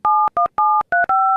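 Five short touch-tone beeps from a phone being dialed to call a repair service, loud and close, evenly spaced with brief gaps and no talking.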